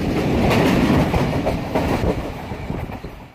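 An Awam Express passenger train rolls along the rails near Rohri Junction, with a steady close clickety-clack of wheels over rail joints and a constant rumble throughout.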